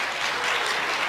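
Applause from a crowd at a Bharat Swabhiman progress meeting in Bihar, a brief dense wash of clapping at steady loudness, with no voices over it.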